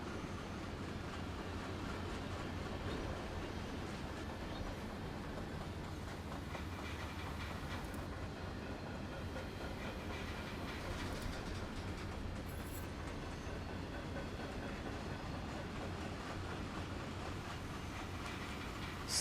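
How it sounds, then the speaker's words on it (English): Train running in Train Simulator 2016 on the Norfolk Southern Coal District route, a steady, continuous rumble of wheels and cars rolling along the track, loud and unbroken throughout with no talking. "This train's still going."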